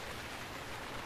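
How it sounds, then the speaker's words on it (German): Rain falling in the survival game Stranded Deep, a dense even hiss of steady downpour, faint and unbroken with no voices. "es ist immer so furchtbar laut, wenn es regnet"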